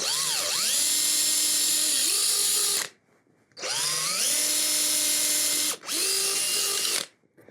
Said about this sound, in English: Let the drill bit do the work, don't force it.